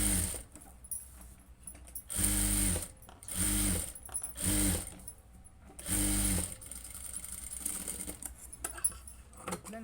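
A sewing machine stitches fabric in several bursts of whirring and clatter, each lasting about a second, with quieter mechanical clicks and handling noise in the gaps. It sounds close, with no speech.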